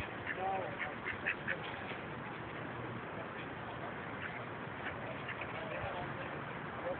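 Pet ducks quack repeatedly while a pet dog plays among them, the calls scattered over steady outdoor background noise with people audible nearby.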